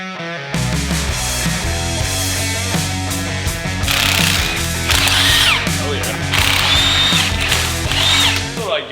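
Power tools and a ratchet work loose bolts on a Honda four-wheeler, loud close whirring and clicking bursts with metallic squeals, steady and busy throughout.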